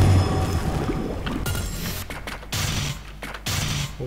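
Gunfire in the action game Valfaris, loud bursts of rapid shots in quick succession with brief gaps between volleys, heavy and close.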